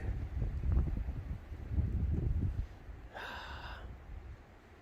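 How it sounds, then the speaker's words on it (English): Strong wind gusts buffet the microphone on a high desert trail in Arizona, deep rumbling blasts for a few seconds that drop off before a brief high-pitched squeak. "Lots of wind."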